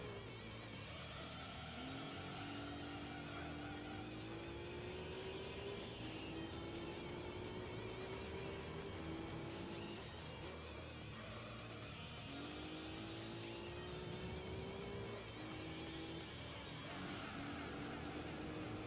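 A Renault Clio race car in Gran Turismo 3 revs hard through its gears, the engine note climbing in repeated rising sweeps at steady volume, with faint tire noise and occasional talk underneath.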